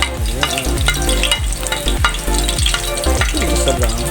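Garlic frying in hot oil in a pan, a loud steady sizzle close up with rhythmic scraping strokes of stirring throughout and no voices.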